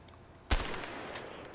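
An MP5 submachine gun fires in the video game A Way Out: a single sharp, punchy shot rings out against a quiet background, followed by a lingering noisy tail.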